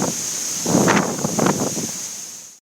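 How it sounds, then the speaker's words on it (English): Strong wind rushes across the microphone in Havasupai Canyon in the Grand Canyon, a steady broadband roar that swells in gusts midway, with no voices, before cutting off abruptly. "Man, the wind coming off this thing's intense"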